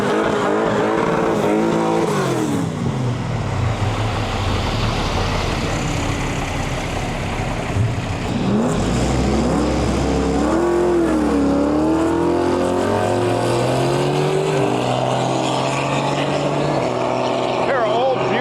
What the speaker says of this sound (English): Picks off an 814, right lane 798 at 91 miles per hour.